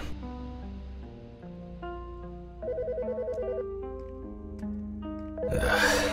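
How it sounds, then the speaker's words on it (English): A telephone rings in the game Autopsy Simulator, a loud electronic ringtone repeating melodic beeping phrases over a low ambient background, ending with a brief burst of noise. "The fucking phone."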